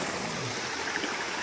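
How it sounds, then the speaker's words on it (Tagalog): A small, cold mountain stream on Mt. Mapalad trickles and gurgles nearby, a soft continuous wash of flowing water without voices. "Little stream of water lang naman."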